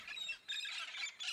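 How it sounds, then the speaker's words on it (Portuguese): Red-spectacled amazon parrots in the Serra Catarinense, Santa Catarina, Brazil give harsh squawking calls in quick repeated bursts, faint and somewhat distant, with no voices present. "Esse é o papagaio charão, a única espécie de papagaio migratório do Brasil."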